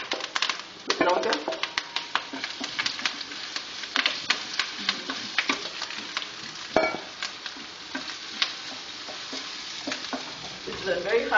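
Onions and garlic bubble and pop in oil over very high heat for Middle Eastern Indian couscous, a dense close crackle of rapid pops throughout, with a voice talking over it.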